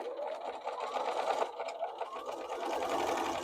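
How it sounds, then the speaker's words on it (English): A sewing machine runs steadily, stitching along the edge of a flat sheet being made into a fitted sheet, its motor and needle making a continuous close whir with slight variations in speed throughout. "So continue sewing this all the way around"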